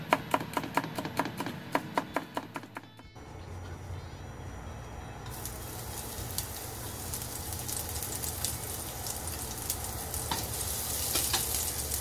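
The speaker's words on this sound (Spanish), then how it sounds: "En esta ocasión nada más, pues, aceite, tallitos de cebolla y el arroz." Oil sizzles steadily in a pan with onion stalks and washed white rice for a simple Honduran lunch, after a run of rapid, evenly spaced taps; the hiss is close and constant, growing slightly brighter toward the end.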